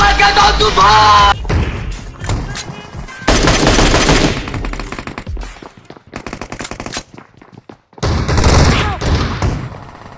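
Automatic gunfire in the PUBG battle royale game, loud bursts of rapid shots in several separate volleys with short gaps between them.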